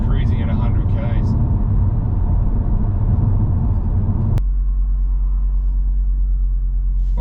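A 2022 Audi RS3 cruising at 100 km/h in comfort mode, giving a steady low road and engine rumble close inside the cabin that drops to a quieter, smoother hum partway through.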